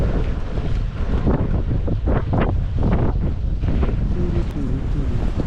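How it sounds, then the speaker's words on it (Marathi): Strong wind buffets a fishing boat far out at sea, roaring steadily with gusts and rushing wash from the waves, close and loud, with wind pounding the microphone. "वारा आणि थंडी पण खूप आहे"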